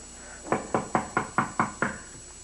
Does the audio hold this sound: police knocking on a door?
yes